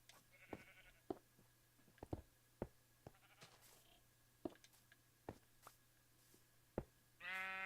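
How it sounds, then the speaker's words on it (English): Sheep bleat in short calls scattered through the stretch, with a few sharper bleats and a louder, longer bleat right at the end, over a low steady hum. "Dang sheep."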